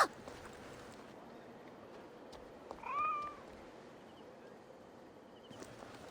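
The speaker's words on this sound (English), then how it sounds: "A random cat coming up here." A single short cat meow from a cat in the video game Assassin's Creed Origins rises briefly over a quiet outdoor ambience of soft wind and distant background noise.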